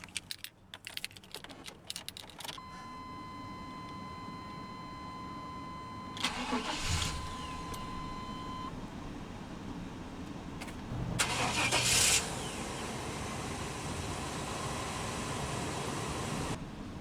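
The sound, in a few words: pickup truck engine starting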